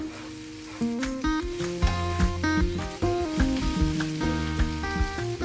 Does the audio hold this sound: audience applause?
no